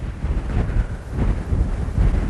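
Gusty wind blows outdoors in Derbyshire, buffeting the microphone in loud low rumbling surges that rise and fall throughout, with no speech.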